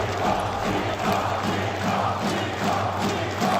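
An esports arena crowd at a Counter-Strike 2 playoff match roars and cheers after an eco-round ace, a loud, dense, sustained wall of voices that swells and dips slightly without letup.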